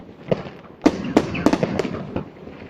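New Year's Eve fireworks over Białystok: half a dozen sharp, fairly close bangs burst at irregular intervals over a low background rumble of distant explosions.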